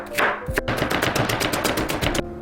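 Half an onion finely chopped with a kitchen knife on a board, a quick, even run of crisp close-up chops, more than a dozen strokes in a steady rhythm, with no talking.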